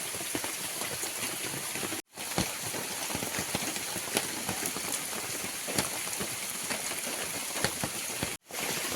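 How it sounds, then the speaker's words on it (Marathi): Heavy monsoon rain pours steadily in the Konkan countryside, a dense, even hiss of drops drumming on a shelter roof, continuous and loud apart from two brief cuts. "जोरदार पाऊस आला आहे"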